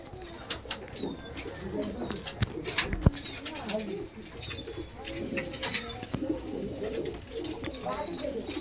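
Lal Dom pigeons, freshly banded with full tails, coo softly among other birds while someone talks over them throughout.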